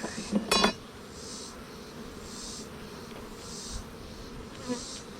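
Honey bees buzz around an open hive during a varroa mite test, a soft continuous drone with brief louder passes and a short clatter of handling at the start.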